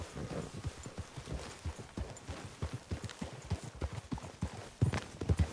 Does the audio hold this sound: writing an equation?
no